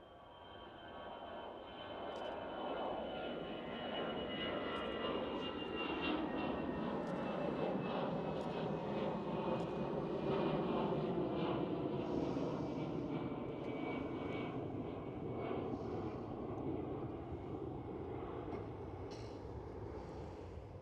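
Airliner engines spooling up to takeoff thrust at Amsterdam Schiphol Airport, a broad steady roar with a faint rising whine, sustained and moderately distant for about twenty seconds, no voices.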